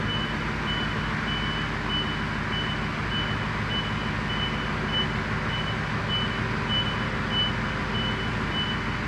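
A truck's reversing alarm beeps steadily at an even pace while it backs up with a trailer, heard over a constant loud engine rumble close by.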